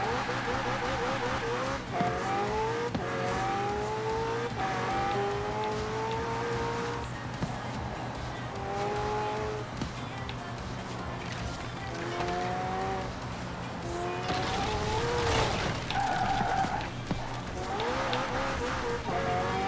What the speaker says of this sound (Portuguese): A Lego Speed Champions McLaren Senna. Acreditem, Horizon,